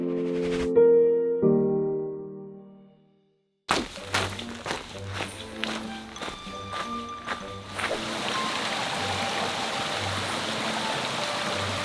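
Mountain brook flowing on the Appalachian Trail in New Hampshire's White Mountains: a few ringing musical notes and then a pause give way to knocks and thuds, followed by a steady, fairly loud rush of water.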